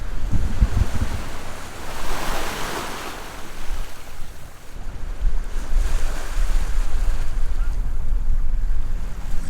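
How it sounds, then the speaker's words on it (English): Waves wash and surge in about 10 knots of wind from astern on a sailboat while wind buffets the microphone, a loud, constant rushing roar at sea. "with 10 knots of wind that we have from the stern, it's enough to push up the waves"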